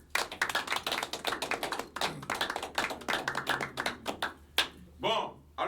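A small group applauds in a run of quick, uneven claps that stop near the end, with voices talking and exclaiming over and after the clapping.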